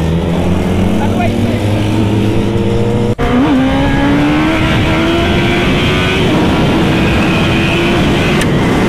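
A motorcycle engine revs hard during a road race against a GT rider, a loud, close, sustained drone climbing in pitch, with heavy wind rush and a brief dip partway through.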